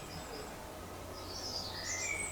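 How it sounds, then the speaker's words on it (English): Birds chirp faintly in the distance on an overcast morning, with a few high, thin calls rising above a steady outdoor background hiss. "Birds are singing."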